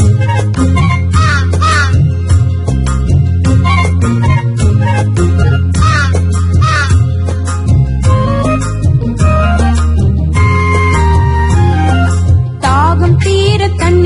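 A crow's caw in a Tamil children's rhyme about a thirsty crow, with short repeated caws heard several times over a loud, steady musical backing of bass and melody that plays throughout.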